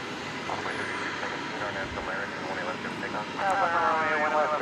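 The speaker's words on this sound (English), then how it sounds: "propeller-driven plane. This one coming in from Lubbock, Texas, after an hour and 15-minute flight. It's a Beech 1900C." A Beech 1900C twin-engine propeller plane lands at DFW at night after a flight from Lubbock, Texas. Its steady engine drone holds throughout, growing louder and more tonal near the end.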